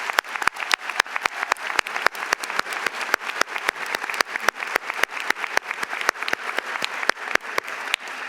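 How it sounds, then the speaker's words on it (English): Audience applause at a university commencement ceremony for graduating Communication Studies students, a dense, steady wash of clapping from a large crowd with sharp individual claps standing out, continuous and fairly close throughout. "so that we can all join in a round of applause"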